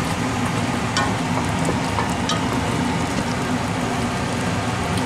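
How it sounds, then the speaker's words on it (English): Seafood marinara pasta stirred into a thickening creamy white sauce, a continuous close bubbling sizzle with faint wet clicks from the stirring, steady and fairly loud, no voices. "So you're gonna mix it thoroughly."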